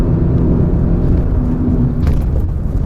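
A Toyota GT86 engine pulls steadily uphill in fourth gear, a continuous loud low drone and rumble with a faint whir that holds level throughout, with no talking.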